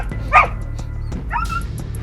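A husky stuck in a river yelps sadly, a couple of short high whimpering cries over a low steady background rumble, fairly close.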